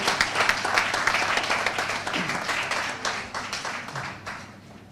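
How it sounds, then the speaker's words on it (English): Hearty audience applause welcoming a young poet to the stage at a road safety poster competition event, loud dense clapping that gradually thins and fades toward the end. "Let us make Joel welcome with a hearty applause."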